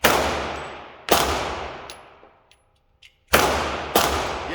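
Gunshots ring out at a shooting range: a loud close shot, a second about a second later, then two more after a short quiet gap, each a sharp crack with a long decaying tail, no talking.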